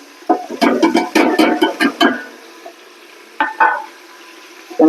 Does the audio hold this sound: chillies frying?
yes